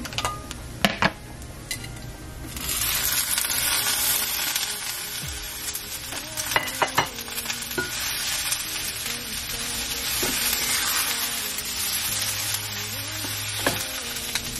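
Pasta cooking in a pan with salt, garlic and seasonings, a steady loud sizzle and fry running through most of the stretch, with occasional utensil clinks and stirring scrapes on top; no talking.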